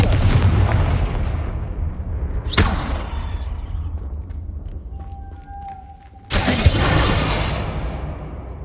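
Confringo explosion spell in a Harry Potter video game: three sharp, loud blasts, each followed by a long roaring decay, with a brief chiming tone before the last blast.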